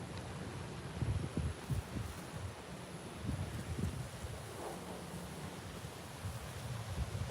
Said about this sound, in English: Wind is starting to pick up.